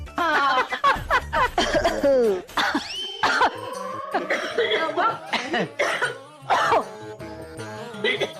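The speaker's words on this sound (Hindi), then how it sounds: "खांसना बंद कर दे" Repeated harsh coughing bursts in a TV drama scene, mixed with laughter and chatter, loud and close, with voices talking throughout.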